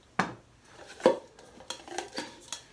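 A camping cook pot and bowl clink and clatter up close, with a few sharp metallic knocks and lighter scraping handling sounds spaced over a few seconds.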